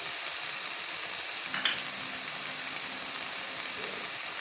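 Chicken and carrots with other vegetables sizzling in a pan for samosa filling, a steady soft frying hiss with a brief stirring scrape, quiet and close with no talk.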